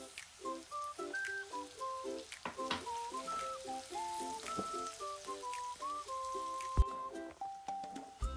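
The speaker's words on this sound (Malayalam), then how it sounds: "പെട്ടെന്ന് വഴച്ചെടുക്കാൻ വേണ്ടി ശകല ഉപ്പിടാം നമുക്ക്." Onions sizzle as they sauté in hot oil with a pinch of salt for a Kerala fish curry, a steady low frying hiss running beneath louder melodic background music throughout.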